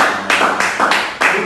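Audience applause at a live evening talk show, heard as a short burst of clapping with several loud swells across the brief moment, fairly close and steady.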